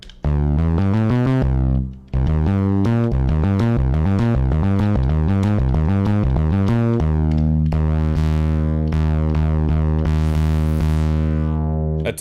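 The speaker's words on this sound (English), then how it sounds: "It's got a lot of reverb on it for some reason." A bright synthesizer plays a sequence of tonal notes, then holds a sustained chord that rings out in a long, washy reverb tail.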